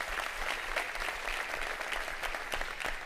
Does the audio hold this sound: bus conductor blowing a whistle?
no